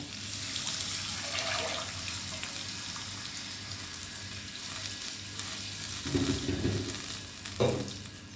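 Tomatoes dropped onto garlic frying golden in oil sizzle steadily up close, with a brief louder burst of crackling partway through.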